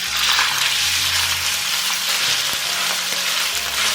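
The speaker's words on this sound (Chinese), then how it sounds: "炒牛肉呢，一定要锅热一点再倒进来。" Beef hits a hot oiled wok for a stir-fry, giving a loud, steady sizzle and frying hiss close up, with faint scraping stirs and no voices.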